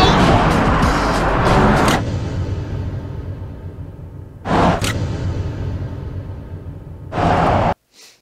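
Two electric pickups, a GMC Hummer EV and a Rivian R1T, race each other, heard as a steady close-up rush of wind and road noise that cuts off abruptly and returns in bursts, with no engine roar.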